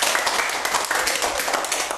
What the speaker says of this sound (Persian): خب دوستو تشویق کنین.